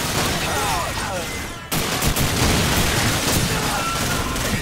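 A grenade goes off in Call of Duty 4: Modern Warfare, a sharp blast cutting through ongoing battle noise, followed by dense, loud rumbling gunfire and debris.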